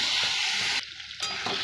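Fish curry with turmeric and salt being stirred in a hot pan, giving a steady close frying sizzle with scraping strokes and a brief quieter pause midway.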